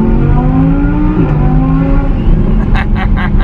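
The last air-cooled Ducati Monster 1100 Diesel edition motorcycle runs close by with a loud, continuous engine drone that shifts pitch once midway as the revs change, plus a few brief clicking sounds near the end.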